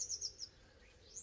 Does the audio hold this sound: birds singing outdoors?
yes